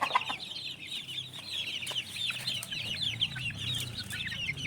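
Chicks peep and cheep continuously in a scratch pen, a dense overlapping chorus of high, wavering calls, with a soft low rustle underneath and no talking.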